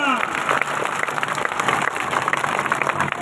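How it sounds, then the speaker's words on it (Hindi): Crowd applause at a gathering for the April 14 Ambedkar Jayanti celebration, a dense, steady burst of many hands clapping close by, briefly overlapping a voice at the start. "जोरदार तालियां"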